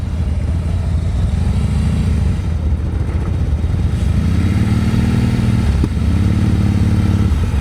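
A motorcycle at slow speed during low-speed riding practice in North Carolina, clutch and friction brake in use. The engine putters steadily and close by, with a few soft rev swells rising and settling and no talk over it.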